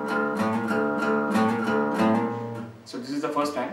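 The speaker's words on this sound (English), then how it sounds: "the main riff in this portion sounds like this." Distorted electric guitar plays the main riff of a song with chugging chords in uneven bursts, close and moderately loud. A brief voice or scrape comes in near the end.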